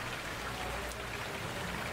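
Recorded rain plays back from a video as a soft, steady hiss of falling drops, faint and continuous with no other sound over it.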